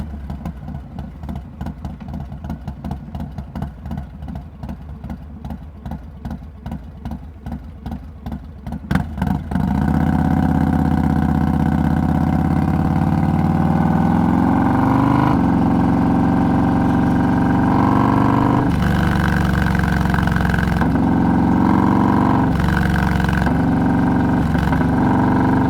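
A motorcycle with about 2,100 miles on it idles with a choppy pulsing beat, then rises into a steady, loud, sustained rev with shifting pitch that holds for the rest of the clip.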